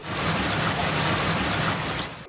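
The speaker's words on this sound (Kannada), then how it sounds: "ಈ ಮಳಿ ಭಾಳ ಅನ್ಯಾಯ ಮಾಡಾಕತ್ತೈತ್ರಿ" Heavy rain pours steadily as a dense, even wash of drops, loud and close, with no voices over it for a couple of seconds.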